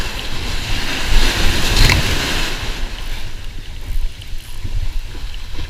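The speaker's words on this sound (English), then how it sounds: "as the waves are dumping pretty close to shore, I'm waiting for the wave to crash" Surf dumps and crashes close to shore on an ocean beach during tailor fishing, a loud continuous wash of breaking waves with a heavier crash swelling near the start, no voices.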